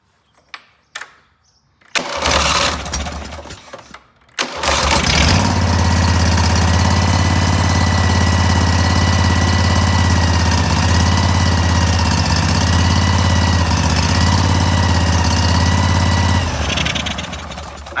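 Cub Cadet 682 lawn tractor engine cranking after a carburetor cleaning, a few brief bursts before it catches, then a loud steady idle that runs on before cutting off.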